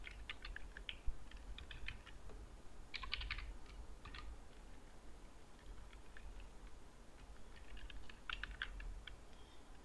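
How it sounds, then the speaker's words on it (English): Typing on a computer keyboard while entering an email address in a PDF application, with light clustered key clicks in short bursts over a steady background hum. "Type your email."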